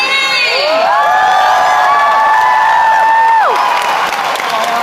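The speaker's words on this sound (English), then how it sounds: "amazing crowd all ready to watch this amazing sport of basketball" A large, excited crowd cheers, shouts and whoops loudly at the Ninetales All-Star Basketball Malaysia 2013 event, with children's voices prominent. A sweeping horn-like tone rises, holds and falls over the continuous close roar.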